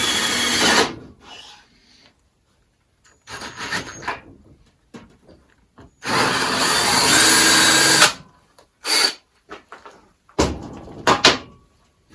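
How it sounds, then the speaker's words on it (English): A power drill fitted with a hole saw bit cuts into pallet wood in loud, harsh bursts separated by silent pauses, the longest grinding run lasting about two seconds, alongside short starts and stops. "we'll just take this drill here and your hole saw bit and drill it out."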